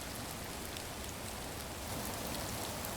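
Steady rain pours in the voxel survival crafting game Rising World, a dense, even hiss of drops on surfaces that holds at a constant level throughout with no voices over it.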